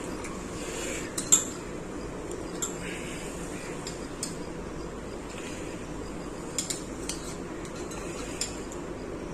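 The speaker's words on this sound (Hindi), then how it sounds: "अब इसकी हम जूलियन कटिंग कर लेंगे।" Knife julienne-cutting ingredients on a board while preparing tandoori chicken karahi, faint scattered taps and clinks over a quiet room hum, sparse and irregular rather than a fast chopping rhythm.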